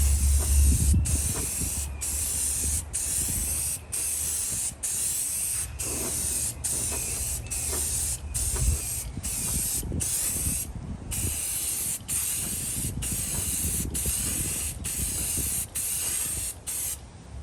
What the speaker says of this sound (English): for an old can, that's pretty good spray